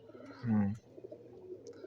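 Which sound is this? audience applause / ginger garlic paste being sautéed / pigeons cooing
pigeons cooing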